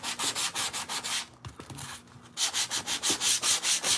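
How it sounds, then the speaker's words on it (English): Electric sander working over a powder-coated mirror frame, a close, loud rhythmic scrubbing in regular pulses, briefly pausing midway before resuming. "Now it's just getting all the powder caked up on my sander."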